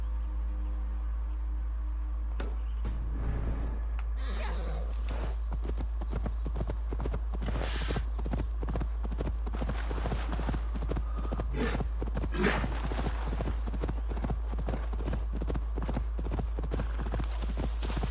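A horse gallops across open countryside in Assassin's Creed Valhala on PS5, its hooves beating a fast, steady rhythm up close over a constant low hum, with a brief whinny-like sound near the start.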